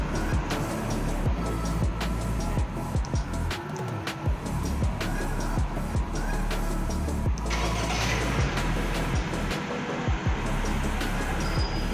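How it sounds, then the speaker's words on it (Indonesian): Honda car, a City hatchback or HR-V, has its engine started remotely, then idles with a steady low rumble and scattered clicks and knocks through the whole stretch, no talking over it. "Setidaknya kita bisa hidupin dulu, tunggu dingin dulu."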